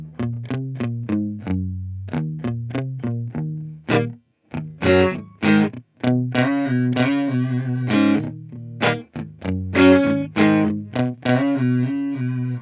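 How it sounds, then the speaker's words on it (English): Guitar notes and chords through a Boss RV-3 digital delay and reverb pedal, drenched in a choppy, stepped modulation like a step phaser, each phrase warbling and pulsing with a distorted, swirling digital texture; no voices. "Almost sounds like a step phaser or something."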